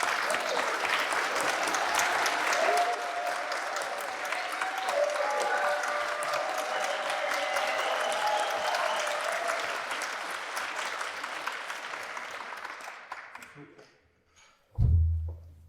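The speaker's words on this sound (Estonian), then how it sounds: "Nii et teeme aplausi Essu mõisa perenaistele." An audience at a community gathering at Essu manor in Estonia bursts into sustained applause, dense clapping filling the room for over ten seconds before tapering off, followed by a single brief thump.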